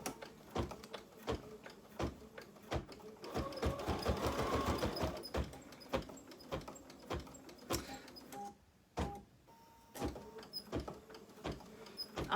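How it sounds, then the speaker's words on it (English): A home embroidery machine stitches out a lemon design, giving a steady run of fast mechanical needle clicks and whirring motor bursts with brief pauses, close and moderately loud, with no talking. "These lemons actually take quite a bit of time to stitch out"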